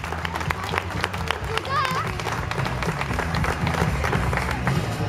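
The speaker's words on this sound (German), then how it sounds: "Ein Applaus für den Volker Gehrke" Crowd applause at a carnival-style show in Mainz honours a man beside a Pontiac car, loud and continuous, mixed with a low rumbling hum underneath and some voices in the crowd.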